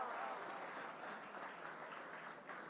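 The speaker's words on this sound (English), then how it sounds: "Clap for her." Audience applause at a book launch event, a soft, distant, steady patter of many hands clapping that fades slightly toward the end.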